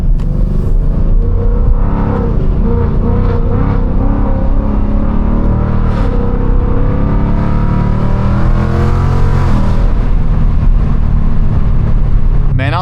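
A straight-piped Ford Mustang GT with a 10-speed 10R80 automatic roars loudly from the driver's seat, its deep engine note climbing and dropping through gear changes with heavy rumbling throughout.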